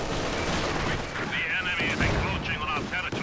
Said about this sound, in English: This barrage takes care of them.